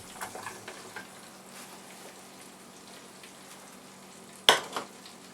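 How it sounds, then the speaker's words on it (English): Onions sizzling softly in hot butter in a frying pan, a faint, steady crackle that runs throughout, with a sharper clatter near the end. "When the butter gets hot, dump onions into the pan."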